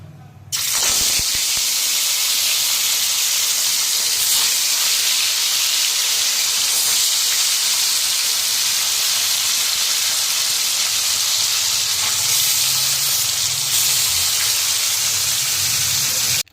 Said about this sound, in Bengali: এখন ঝোলটা ফুটে গেছে এখন মাছগুলো দিয়ে দিয়েছি